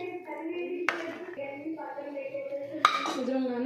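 A spoon scrapes and knocks against a pot while spinach dal (palak pappu) is stirred, with two sharp clinks standing out over steady talking.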